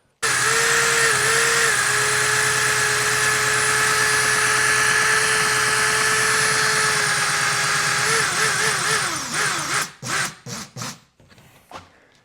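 A Makita drill fitted with fresh bits runs steadily for several seconds while cleaning an EGR part on a Mercedes, whining and scraping in place, then cuts into a few short stuttering bursts near the end.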